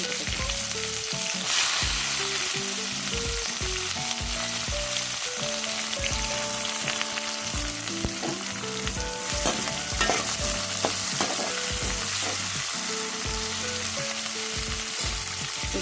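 Chopped onion and fennel seeds fry in a pan with mustard seeds and split black gram, a steady close sizzle with stirring and scraping throughout, no voices.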